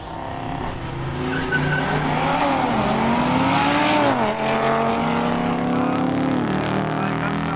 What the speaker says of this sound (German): Bahn 1, Dodge Challenger gegen Audi RS3 Limo